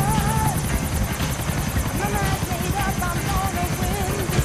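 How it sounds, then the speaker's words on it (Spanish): Helicopter flying in the video game GTA IV during the final mission, a steady rotor drone with rapid regular blade chop, loud and continuous under game sound effects and faint voices. "No alcanzamos a ver en pantalla el helicóptero,"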